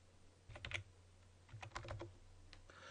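Quiet typing on a computer keyboard, entering a category into a field, two short bursts of rapid key clicks close by, no talking.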